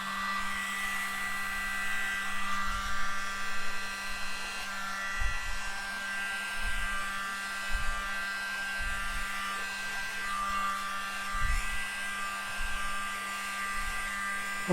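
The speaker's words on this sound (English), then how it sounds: "Here's my trusty Mini, the Mini blower." A small handheld mini blower pushes an abstract acrylic paint pour, a steady close whirring motor drone with faint irregular thumps underneath, running continuously without speech.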